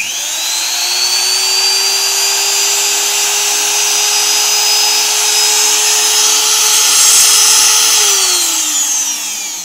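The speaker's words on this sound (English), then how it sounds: "you can see the router starts up all by itself" A CNC router spindle spins up on its own with a loud, close, high-pitched whine that rises, holds steady for several seconds, then winds down near the end, with no talking.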